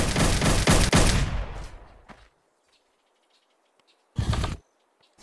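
Modded guns in the VR game Blade and Sorcery fire a loud rapid burst of shots that fades into near silence, followed by one more short sharp burst.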